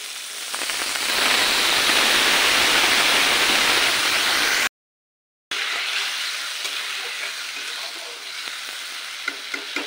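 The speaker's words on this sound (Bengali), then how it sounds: "তো অল্প জল দিয়ে দেবো।" A little water poured into a hot cooking pan with sugar in a home kitchen, setting off a loud, steady hiss and sizzle that fades slightly after a brief break, with no talk.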